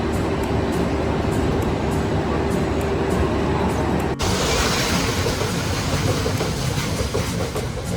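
Samatha Express 12807 rolling on rails between Visakhapatnam and Delhi, a loud steady rumble of wheels and carriage noise with a brief dip midway, then continuing close and constant.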